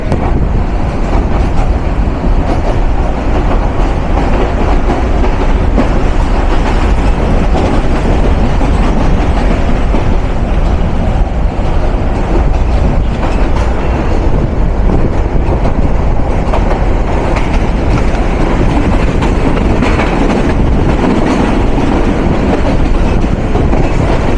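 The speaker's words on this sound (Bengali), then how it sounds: "Dhaka cantonment station through pass Mahua commutator" The Mohua Commuter train runs through Dhaka Cantonment station, a loud, continuous rolling rumble heard from close by with rattling carriages and rail noise that hardly changes.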